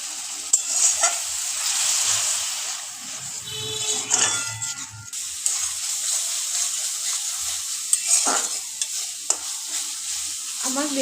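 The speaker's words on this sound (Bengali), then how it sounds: "এবার আবার ভালোভাবে আমি কষাতে থাকবো" A spice paste is sautéed in oil for a vegetarian jackfruit dish, with a soft crackling sizzle running throughout and occasional scraping stirs and clinks of a utensil against the pan.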